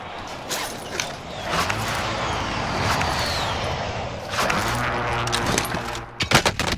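Rapid bursts of automatic gunfire and mechanical clatter from Call of Duty: Modern Warfare, loud and dense, with a busy rumbling game backdrop and sharper shots near the end.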